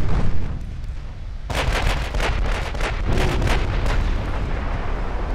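Torpedoes strike a warship's hull in Ultimate Admiral: Dreadnoughts, a heavy rumbling blast followed by a loud, dense roar of repeated booming impacts and crackling bursts that carries on without pause.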